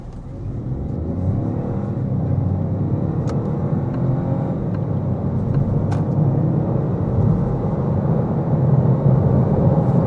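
A Lancia Ypsilon in sport mode accelerates hard from a standstill, its engine rumbling and rising steadily under continuous loud road and wind noise, heard from inside the cabin with no talking.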